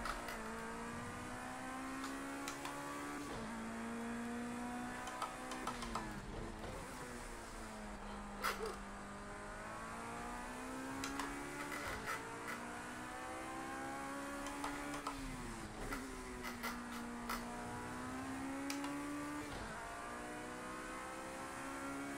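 Race car engine in a Project Cars 2 endurance race at Laguna Seca, revving up through the gears and dropping off into corners, a continuous droning whine rising and falling throughout with no talk.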